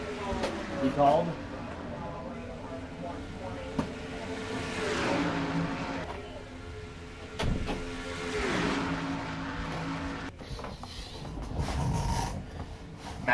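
Stock race car engines roar in a racing video game during a Coca Cola 600 event, with rising and falling revs as cars pass, all under continuous race commentary.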